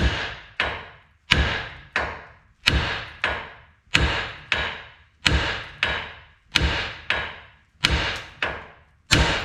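Hammer tapping on a nut on the upper control arm of a Chevrolet Silverado truck, loud, close, sharp metallic strikes in steady pairs that ring out briefly after each hit.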